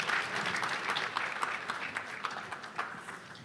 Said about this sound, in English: about another 15 seconds of that rousing applause